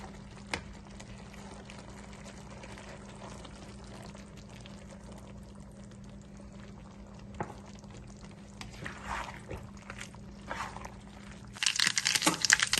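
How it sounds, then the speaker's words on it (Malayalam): A low steady hum runs throughout while coconut milk pours in faint splashes into a breadfruit curry, growing louder and bubbling near the end; no talking. "ഇതിലേക്ക് 1-ാം പാലൂടെ ഒഴിക്കാം."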